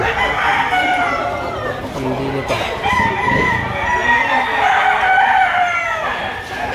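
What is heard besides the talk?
roosters crowing at gamefowl market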